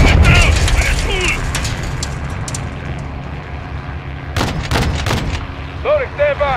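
Loud gunfire and heavy artillery booms in a Modern Warfare 2 campaign battle, with sharp bursts and deep blasts over a rumbling combat bed and chirping game effects, radio voices briefly heard.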